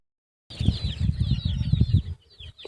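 Chicks peep busily in high, overlapping calls, with hens' low clucking and soft thumps close by on a farm, continuous for a couple of seconds before easing off.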